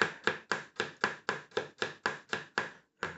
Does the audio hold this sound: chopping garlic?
yes